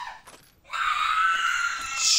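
A video game character screams loudly and sustained for well over a second, preceded by a brief sharp cry, during an online battle royale match.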